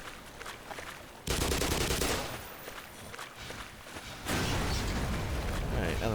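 Explosions in the video game Black Mesa: loud, dense bursts of rapid crackling blasts, rising sharply and continuing in heavy waves with brief easing between them.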